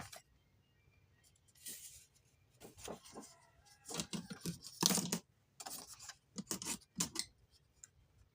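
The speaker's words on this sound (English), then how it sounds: "I am just snipping on the score line" Scissors snip paper along a score line during journal-making: a quiet series of short, irregular crisp cuts, some in quick pairs, with near silence between them.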